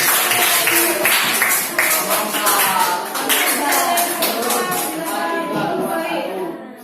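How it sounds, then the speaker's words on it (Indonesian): Classroom students clapping hands for a group after a math presentation, a brief burst of scattered claps that fades, with some voices and chatter mixed in. "kita beri tepuk tangan dulu untuk kelompok"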